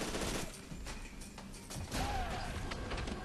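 Gunfire from the first-person shooter F.E.A.R. 2: Project Origin: dense, continuous bursts of shots and crashing impacts fill the whole stretch, loud and chaotic, with a brief whistling tone partway through.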